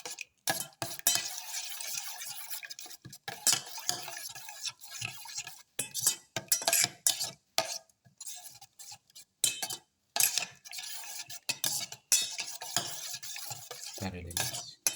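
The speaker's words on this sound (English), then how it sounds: "egg mixture that we made. Mix together." Whisk or spoon beats an egg mixture with ground black pepper and greens for an omelette in a bowl, giving steady, rapid scraping and clinking strokes, close and fairly loud, with brief pauses.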